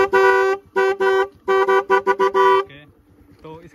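A Roots horn wired through a relay on a modified Honda Activa 5G scooter blares in loud, strident blasts, some long and some short staccato toots, then falls silent briefly before one weaker final honk.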